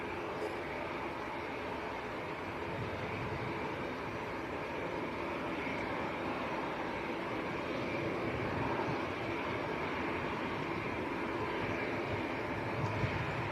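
Steady roar of aircraft at Manchester Airport with planes queuing on the ground, a continuous broad engine rumble throughout at moderate distance, no talk.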